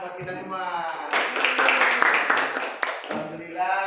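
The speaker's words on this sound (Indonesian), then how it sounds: "Oke, tepuk tangan buat kita semua." A fourth-grade class breaks into a short burst of dense clapping from about one to three seconds, with an adult voice speaking just before and after it.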